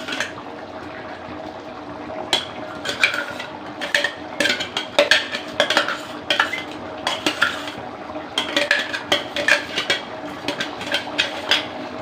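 A spoon scrapes and clanks against a pan as a coarse ground paste goes into chana masala, with wet stirring and irregular metallic knocks over a steady cooking hiss, close and fairly loud, no voices.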